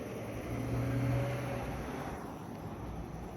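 A car rolls down the center of a city street near an intersection, a steady broadband engine and tire rumble that swells slightly mid-way and then eases, heard outdoors without talk.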